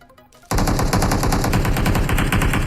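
Automatic gunfire in the PUBG Mobile video game bursts in suddenly after a quiet moment and then rattles on loud and continuous, as rapid, evenly spaced shots, with no talking.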